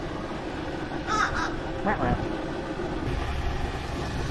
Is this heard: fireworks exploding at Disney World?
no